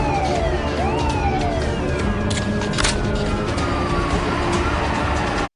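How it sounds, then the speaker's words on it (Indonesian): Several police sirens wail and sweep up and down in a film car chase after bank robbers' getaway car. The sirens are loud and overlapping above a steady roar of engines and traffic. "Polisi terus mengejar mobil perampok yang melarikan diri"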